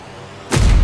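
A single loud gunshot-like blast in a Bulgarian film trailer strikes suddenly midway and leaves a heavy booming tail, after a quiet low rumble.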